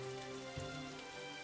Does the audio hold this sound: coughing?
no